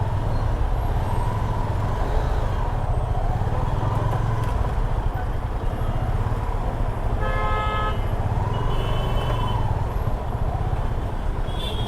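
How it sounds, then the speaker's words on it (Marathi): Heavy road traffic heard from a motorbike on the way to Mumbai. A steady engine and road rumble runs throughout, and vehicle horns sound repeatedly, including a sharp multi-tone honk in the middle. "ट्रॅफिक भरपूर आहे."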